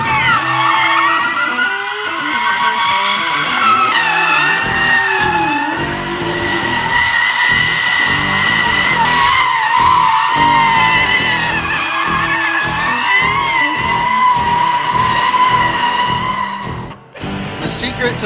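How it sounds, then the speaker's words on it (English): A Tesla Model S P100DL slides sideways on a race track with its traction aids and ABS disabled, producing loud, sustained tire squeal over the car's whirring motor, with rising and falling surges for the whole run. "pull the fuse and see what this thing is like without any traction aids, ABS. We'll see if we can get it sideways."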